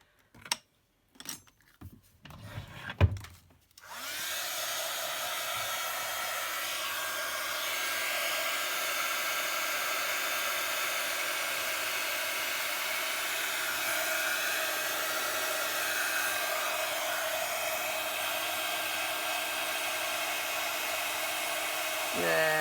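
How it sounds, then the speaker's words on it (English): A heat gun blows hot air onto candle wax. After a few brief knocks and handling sounds, it roars in one loud, steady, continuous rush that holds unchanged to the end. "So I'm just going to get my heat gun and blast that"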